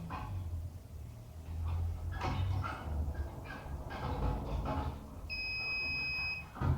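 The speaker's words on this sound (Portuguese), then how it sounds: "o bip do Fertilize sinalizando que já podemos iniciar o descongelamento" A semen thawer's steady electronic ready beep sounds near the end, holding for over a second above background clatter and a faint low hum.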